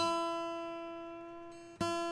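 A single acoustic guitar string rings out and slowly fades, then is plucked again sharply near the end while being tuned.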